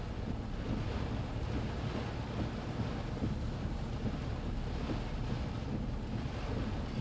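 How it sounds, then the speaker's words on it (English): Strong hurricane wind gusts buffet a parked truck on St. Simons Island during Hurricane Debby, a constant loud roar of wind against the cab and microphone with no pauses. "You feel that wind buffering the truck now?"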